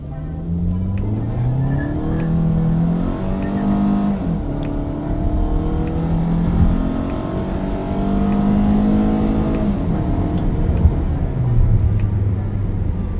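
A 2022 Hyundai Sonata 2.5 in sport mode accelerating hard from standstill, engine droning and rising in pitch through several gear changes, heard steadily from inside the car over ticking sounds.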